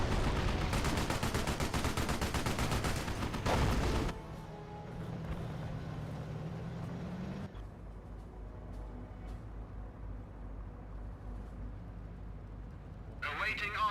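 Vickers machine gun emplacement in Company of Heroes firing a rapid, rattling burst for about four seconds, then giving way to quieter battlefield rumble with a voice talking over the game sounds.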